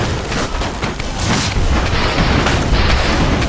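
Heavy cannon fire from a steampunk airship battle in the game Airships: Conquer the Skies, a dense, loud barrage of overlapping booms and bursts rolling continuously with no pauses.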